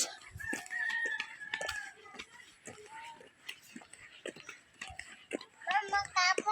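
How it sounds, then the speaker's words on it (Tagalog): A rooster crows and chickens cluck beside a village road, the calls loud and close in short bursts, with people talking and walking nearby. "May manok, guys."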